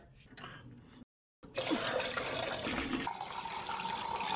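A short clatter, then a brief silence, before water pours and splashes continuously into a container, loud and close.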